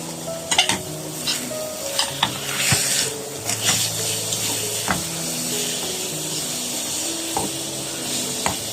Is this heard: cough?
no